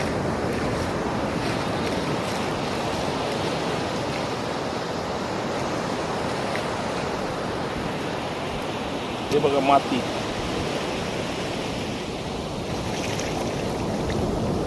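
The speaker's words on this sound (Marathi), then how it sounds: "कशा आहेत समुद्राच्या लाटा वा वा" Sea waves wash onto Harne beach on the Konkan coast near Dapoli, a steady broadband surf roar mixed with wind buffeting the microphone, while someone speaks briefly over it.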